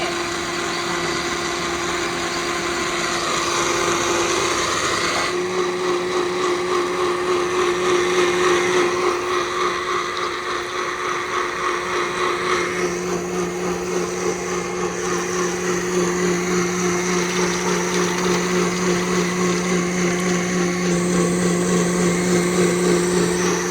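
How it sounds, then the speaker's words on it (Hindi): A butter-churning machine whirs steadily as it churns butter and lassi, a continuous close motor drone with a shift in pitch partway through and no talking. "तो इसमें लस्सी बनाएंगे, मक्खन निकालेंगे"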